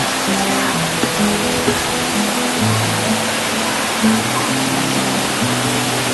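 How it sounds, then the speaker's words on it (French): The Cascade de la Barthe waterfall in Auvergne, France, roars in a constant rushing hiss, with faint low tones drifting beneath the steady flow. "Ici, nous pouvons contempler la cascade de la Barthe."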